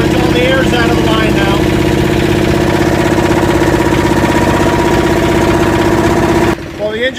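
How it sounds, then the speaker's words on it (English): Yanmar SB12 marine diesel on a sailboat running in gear, a loud, steady mechanical drone with an even throb that carries on for several seconds and then cuts off abruptly. "the engine's been running about 40 minutes now, continuously"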